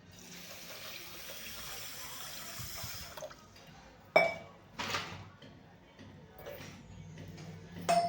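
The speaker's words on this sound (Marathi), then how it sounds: "सहाशे ग्रॅमच पाणी टाकायचं आहे आपल्याला" Water poured from a vessel onto 600 g of sugar in a pot to make gulab jamun syrup: a steady rushing pour for about three seconds, then a few clinks and knocks of the pot and spoon.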